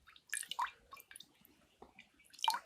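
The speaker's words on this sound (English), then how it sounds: "He tried washing with water." Water drips and splashes from hands being washed, a few sparse, soft wet plinks and squishes spaced irregularly, fairly quiet and close, with no voices.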